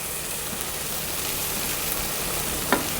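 Onions fry on a hot stove with a steady, close sizzle and crackle throughout, plus a single sharp tick near the end.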